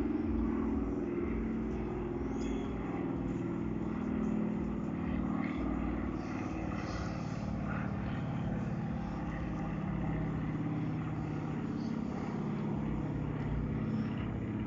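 A steady, loud engine drone of two large airplanes passing close by, continuous throughout with little variation.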